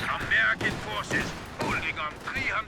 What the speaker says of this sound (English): then mortars doing some work